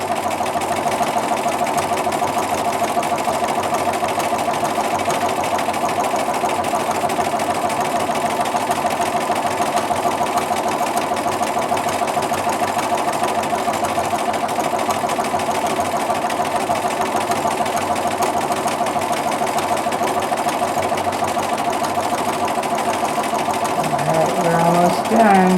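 Sewing machine quilting straight grid lines across a checkerboard quilt, a continuous fast mechanical whirr running steadily and loudly at close range without pause.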